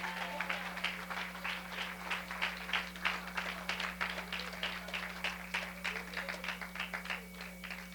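Congregation applauding the Lord during a Spanish-language evening prayer service in church, a steady wash of many hands clapping that fills the room for several seconds with a low steady hum underneath.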